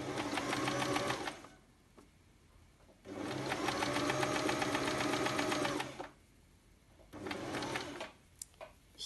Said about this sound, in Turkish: Askılarını dikeceğim şimdi.